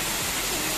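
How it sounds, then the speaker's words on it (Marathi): A small waterfall at Ekiv falls near Satara roars as a steady, dense rush of falling water, loud and unbroken. "थोडक्यात छोटासा धबधबा आहे"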